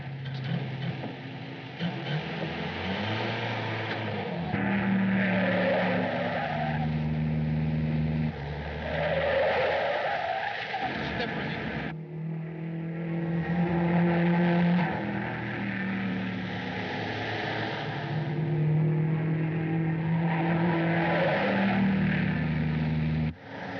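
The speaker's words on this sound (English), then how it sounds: "What was that car?" A car in a 1939 film roars away, its engine droning loud and steady for the whole stretch with rising and falling surges of acceleration.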